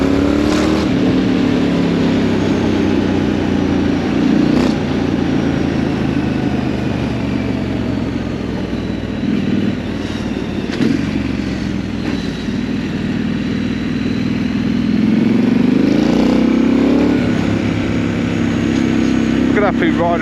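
Triumph Scrambler 900 motorcycle engine rumbling steadily while riding, a loud low drone with rising and falling pitch as the bike shifts through the lower gears, mixed with wind rush, with some talking over it.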